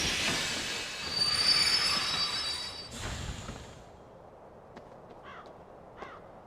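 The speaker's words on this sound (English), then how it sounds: "The train will be arriving shortly." A train in the video game Heart of the Kingdom 2 pulls in with loud, sustained wheel squeal that fades into rumbling, followed by a few crow caws further off.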